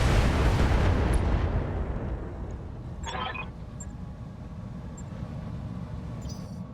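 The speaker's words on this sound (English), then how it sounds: "Firing all weapons." A BattleTech mech fires all its weapons at once: a heavy, booming volley that rolls away and fades, followed by a few faint clicks and pops.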